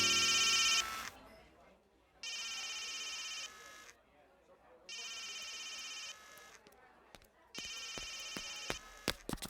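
A telephone rings in a film scene, sounding in three or four long electronic bursts separated by quiet gaps, with faint clicks and background room noise between rings.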